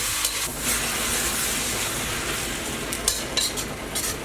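Pad see ew stir-fried noodles being stirred together with sauce in a hot oiled pan, giving a steady, dense sizzle and scrape that runs throughout with no talking.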